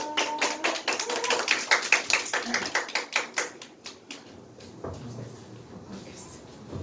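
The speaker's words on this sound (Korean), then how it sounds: "박수로." A church congregation claps together during a thanksgiving service. The applause is dense and steady for about four seconds, then thins out and fades into quiet room sound.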